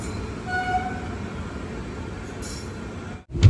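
Maveli Express sleeper-class train rolling toward Neeleshwaram station, a steady near rumble of wheels on track with a brief horn-like tone early, then a sudden drop and renewed thump at the end.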